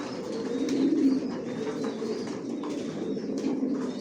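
Racer pigeons coo in a loft, a soft, continuous overlapping murmur of low throaty calls, with faint higher chirps and rustles in the background.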